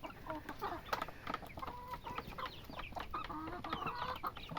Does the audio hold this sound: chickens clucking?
yes